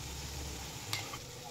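A spoon stirs spice masala into a pan of hot oil with chopped coriander for matar paneer, giving a short, faint sizzle with light scraping and a small clink.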